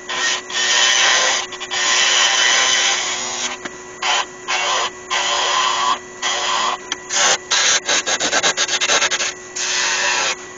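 Sandpaper rubbing a wood-turned body spinning on a lathe, a steady whirring scratch broken into repeated bursts as the paper is pressed on and lifted off, close and loud.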